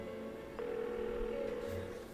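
A telephone rings on unanswered in the Persona 4 PS2 game as a low, steady electronic tone that holds under faint background noise, with no talk over it.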